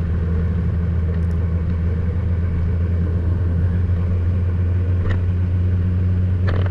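Kawasaki Ninja ZX-14R engine rumbling steadily while riding, a continuous loud low drone with constant road and wind noise and no change in pace.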